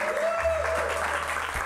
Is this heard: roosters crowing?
no